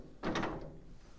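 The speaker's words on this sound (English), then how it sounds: "Double doors." Rear double doors of a GMC motorhome closing with one brief, solid thunk and a short rattle, fairly close, with faint room noise afterward.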